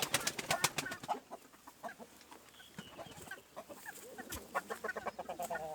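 Chickens cluck in a backyard garden where young chicks are kept, giving close, repeated bursts of clucking and calls, busy at first, quieter in the middle, then picking up again toward the end.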